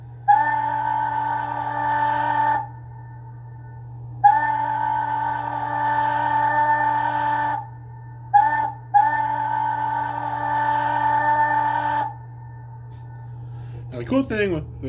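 A model steam locomotive's whistle from a WowSound sound decoder blows in several long, steady chime blasts, including one short toot, with a constant low hum underneath throughout.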